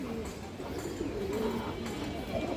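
A female pigeon of the Kajlapur line coos in soft, low rolling phrases across a short stretch, close by, over a steady background murmur of other birds.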